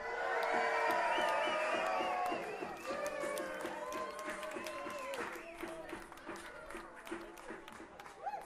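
A festival crowd at a concert cheers, whoops and applauds loudly, the excited roar and clapping easing slightly but continuing throughout.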